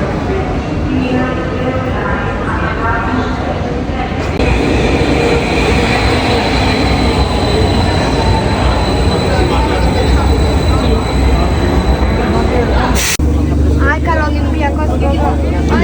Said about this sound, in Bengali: মেট্রোতে উঠে গেছি